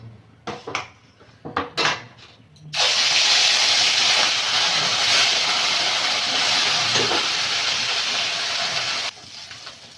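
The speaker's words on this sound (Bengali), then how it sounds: "তেলটা গরম হয়ে গেছে, মাছগুলো ভেজে নেব।" Fish frying in hot oil in a village kitchen, opening with a few clattering knocks and clinks of utensils, then a loud, steady roaring sizzle that holds for several seconds before cutting off abruptly.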